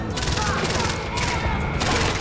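Rapid gunfire bursts from the Far Cry 4 video game, dense and continuous with overlapping shots filling the whole stretch, loud and close, with a mixed game soundscape behind it.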